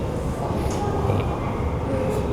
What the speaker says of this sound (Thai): รอรถไฟฟ้านะครับ